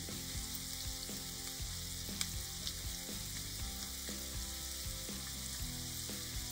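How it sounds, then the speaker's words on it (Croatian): About 100 grams of finely chopped onion frying gently in two spoons of oil for a moussaka filling gives a steady even sizzle and light crackle, close and fairly quiet, with no voices. "Luk nam se lagano prži."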